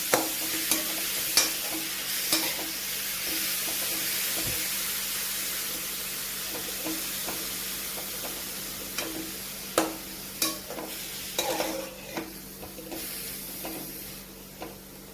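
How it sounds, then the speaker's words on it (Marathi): Grated red pumpkin roasting in ghee for halwa, a steady close sizzle and frying hiss running throughout with scattered sharp clicks of a spatula stirring against the pan, no voices. "आणि ह्याला तुपावरती खरपूस भाजून घेऊ आपण"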